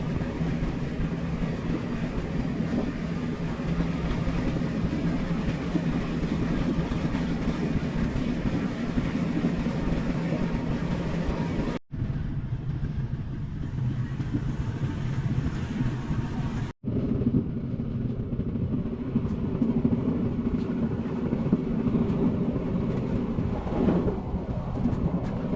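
A train rolls into Kertosono Station in a continuous heavy, rumbling clatter that fills the whole stretch, broken by two brief cuts.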